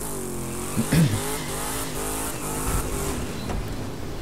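Drag race cars in The Crew 2 roar loudly, engines revving and climbing through the gears, with a brief tire squeal near the start and a continuous high-speed drone that follows.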